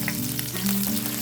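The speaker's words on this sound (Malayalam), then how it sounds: "കടുക് പൊട്ടിയതിന് ശേഷം ചെറുതായിട്ട് എരിഞ്ഞ വെളുത്തുള്ളി ചേർത്ത് കൊടുക്കുവാണ്" Garlic sizzles in hot coconut oil after mustard seeds have popped, a steady close frying crackle with a brief stir, no voices.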